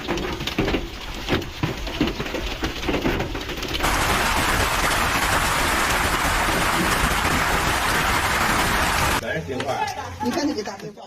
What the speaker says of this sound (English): Videos captured by residents show hail pelting rooftops, streets, and vehicles with frightening force.